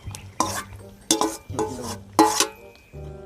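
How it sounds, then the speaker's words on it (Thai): Beef, three kilos of it, tipped into a pot of boiling broth for a spicy Thai beef soup, giving several loud bursts of splashing and stirring clatter with short pauses between, close by and without talk. "เดี๋ยวเราจะเทเนื้อลงไปเลยนะคะ"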